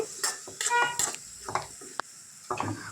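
Onion egg fry with turmeric and cumin being stirred in a pan, with quick scraping strokes and a light sizzle, heard close up in short bursts with a sharp tap near the middle.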